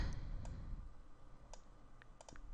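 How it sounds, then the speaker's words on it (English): A computer mouse clicked several times, light sharp clicks spaced irregularly, close by and quiet with no talk. "I'm just going to change my view right here by clicking the scrolling mouse."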